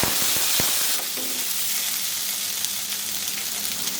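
Potato pieces drop into hot mustard oil with a few sharp crackles, then settle into a loud, steady, close sizzle that holds without a break.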